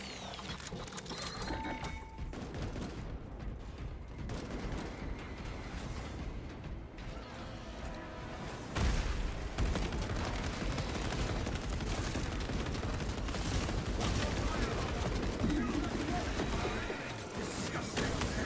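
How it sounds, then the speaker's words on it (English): A tarantula sentry gun firing in Space Marine 2, rapid mechanical gunfire and whirring over ongoing game combat, growing louder and denser about halfway through, with voices talking over it. "Activating tarantula sentry gun."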